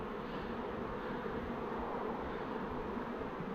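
Honeybees buzzing steadily at an open hive during a swarm inspection, a dense, continuous drone of many wings that holds level and fairly close throughout, with no voices.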